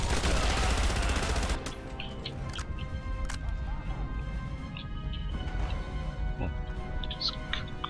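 Heavy machine-gun fire in the video game Enemy Front, a loud sustained burst at the start that cuts off after about a second and a half, leaving a dense, noisy battle backdrop with scattered sharp cracks.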